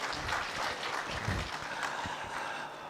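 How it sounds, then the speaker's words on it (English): An international science and education conference audience applauds a professor after his talk, a moderate, continuous patter of many hands clapping at a steady level for a few seconds before easing slightly at the end. "please applause to Professor Morita"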